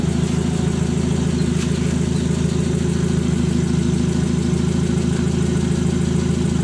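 A petrol car idles through an HKS Srigala aftermarket exhaust, giving a steady, loud, low rumble that holds without change from start to end, with no voices.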